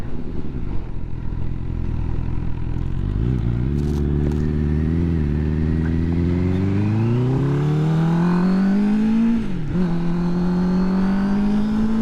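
A car passes on a road during a ride out, a loud engine drone rising steadily in pitch as it draws near, then dipping sharply as it goes by, with continuous road and engine noise throughout.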